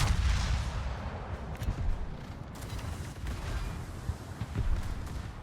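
Warship guns fire during a World of Warships naval battle, with heavy booming salvos and crackling blasts layered over a dense, continuous battle rumble.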